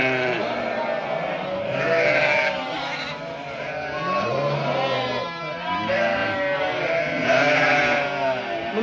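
A flock of sheep and lambs bleat continuously, many overlapping calls near and far, with no talking.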